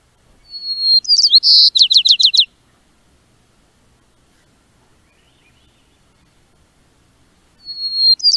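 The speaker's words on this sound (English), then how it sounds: "These birds like to perch on the tops of bushes and broadcast their song and their territory loudly." A bird perched on a bushtop in the Mount St. Helens blast zone sings a bright, rapid trilling phrase, then falls silent for several seconds before starting another phrase, clear and close.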